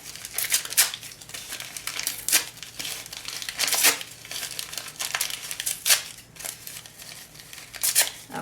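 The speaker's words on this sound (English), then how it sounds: "take a few of them, just a few in my hand here, a few strips, and tear those as well" Paper strips are torn by hand, giving a series of sharp, crisp rips and crinkling rustles at an uneven rhythm, close and moderately loud with no speech.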